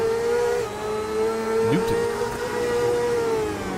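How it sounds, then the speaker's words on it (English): Open-wheel CART race cars at Adelaide in a racing video game, a loud sustained engine whine holding steady, with another car roaring past about midway, its pitch dropping quickly as it goes by. "These cars are flying through."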